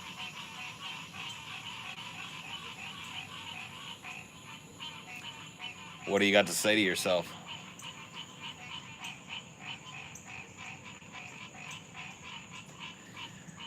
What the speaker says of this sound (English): Those are leopard frogs.